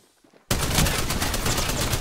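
Gunfire in the video game Apex Legends on the Olympus map, with a quiet lead-in giving way to a loud, sustained burst of rapid automatic fire that continues to the end.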